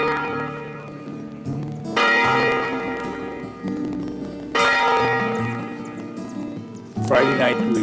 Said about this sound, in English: we rang the bell at the old meeting house just to start the celebration off